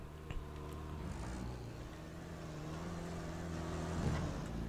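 A truck engine in the SpinTires off-road driving game idles and runs with a low, steady rumbling exhaust drone, mid-level and continuous, rising slightly toward the end.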